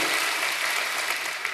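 A church congregation at a Sunday worship service claps together, a dense sustained burst of applause that stays even and loud throughout, with no voices.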